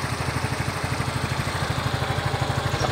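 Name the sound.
Yamaha Mio i 125 scooter engine running after rocker arm replacement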